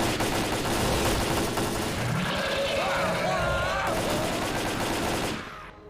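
Machine gun fire in STALKER: Clear Sky rattles in sustained bursts over a rumbling background, with voices speaking briefly in the middle before the noise cuts out near the end.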